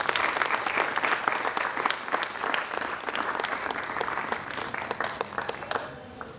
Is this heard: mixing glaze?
no